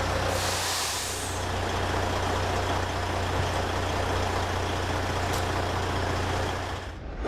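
A 2002 Peterbilt semi truck with a C15 engine rumbles steadily nearby as it pulls into a shop, its deep engine drone constant, with a brief hiss of air near the start and a sharp release at the end.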